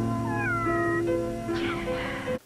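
A cat meows in a Stephen King's Carrie film scene, a long, wavering, drawn-out cry with a second rising call near the end, loud and close over a steady tonal musical background.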